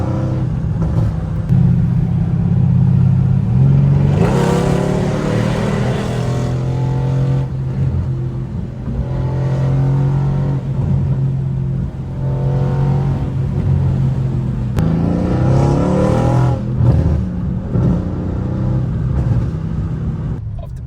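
A Mercedes-AMG C63s fitted with catless downpipes revs and accelerates loudly on the road, its engine note rising and falling through several pulls with a constant drone between them.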